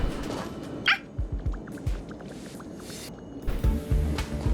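A dog in the video game Honkai Star Rail gives a handful of short, soft barks and yips spaced across a few seconds, fairly quiet against a low background hum, with no talking.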